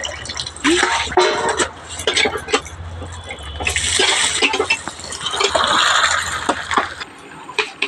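Fish are washed by hand in water, splashing and sloshing in uneven surges with drips and trickles, close up, while a person talks over parts of it.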